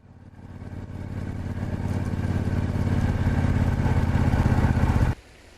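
A 1972 Moto Guzzi Eldorado motorcycle runs on a road with a steady low rumble that grows slightly louder and holds close, then cuts away sharply near the end.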